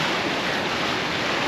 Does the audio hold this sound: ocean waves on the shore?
yes